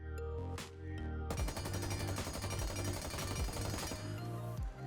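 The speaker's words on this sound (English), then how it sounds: "When I go into the game and shoot the weapon, you can see that the recoil is basically 0 now." Rapid automatic weapon fire in a first-person shooter during an anti-recoil test, a steady stream of sharp close shots after a couple of isolated ones, loud and even with no talking.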